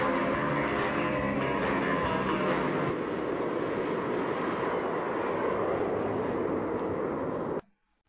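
Steady broadband roar of an airplane in flight, loud and continuous with a shift in tone partway through, then cutting off abruptly near the end.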